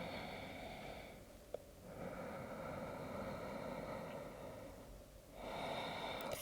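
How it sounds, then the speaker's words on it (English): Slow, deep yoga breaths come in long airy waves, close and soft, with a quiet pause between inhale and exhale and a brief click partway through. "Deepen in the breath once again."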